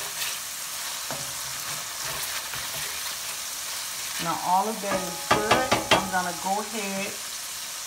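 Minced garlic, about a tablespoon, sizzles and fries in a pan for pork fried rice, a soft steady crackle with stirring and scraping, while a voice speaks briefly over it.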